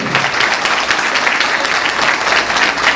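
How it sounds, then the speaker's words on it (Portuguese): A church audience at a Portuguese-language religious talk claps for the Lord, a steady, dense wash of applause holding at an even level throughout. "Vamos aplaudir ao Senhor."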